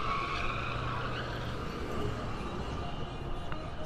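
A car in Hunts Point in the Bronx, New York City, is driving on a wheel rim, making a continuous scraping, grinding noise at steady loudness over street ambience.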